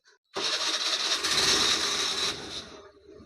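A 2015 Hero Splendor motorcycle fires up on its electric self-start, a brief starter whir followed by the engine catching and running steadily for a couple of seconds before easing down, close and alone.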